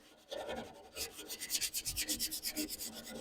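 Sandpaper lightly scuffs the painted surface of an old rusty toolbox in a quick series of soft, rhythmic rubbing strokes, close by and fairly quiet.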